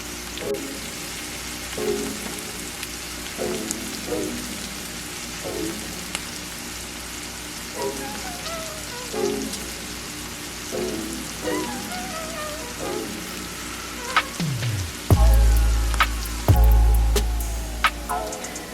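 Shrimp chile verde simmering and cooking down in a pan, a steady soft bubbling sizzle with repeated gentle pops, ending in a couple of louder knocks near the close.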